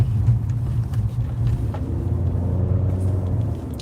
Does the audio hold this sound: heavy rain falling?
no